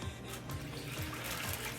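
Beef broth pours into a crockpot in a steady, soft liquid trickle lasting a couple of seconds, faint and close, with no talk over it.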